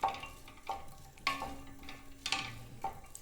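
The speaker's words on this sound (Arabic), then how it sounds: "ونحطوا البصل يتقلى" Chopped onion fries in about three ladles of oil for a minced meat filling, a close bubbling sizzle broken by several louder stirring scrapes and clinks, with no voice.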